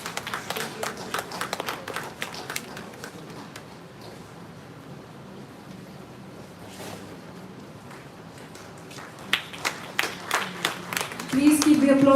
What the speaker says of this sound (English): Please keep the applause going, ladies and gentlemen